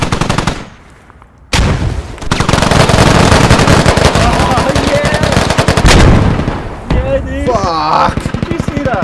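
Dense rapid gunfire and a grenade blast fill a SQUAD video game firefight, loud continuous bursts with players shouting over the shooting.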